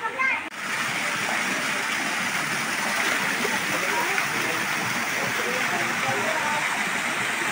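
Water gushes steadily from a large outlet beside a tree at a natural hot spring, a constant broadband rush close by that fills the whole stretch without pause.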